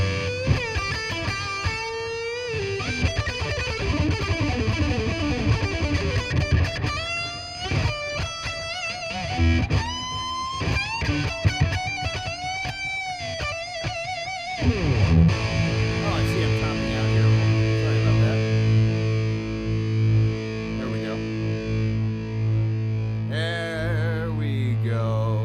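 Electric guitar through an amplifier's gain channel with distorted tone, busy riffs and bends followed by sustained held chords ringing out, fairly loud and close.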